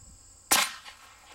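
A single sharp M1 Carbine gunshot firing 110 grain FMJ rounds at watermelons outdoors, one loud crack that decays quickly in otherwise quiet surroundings.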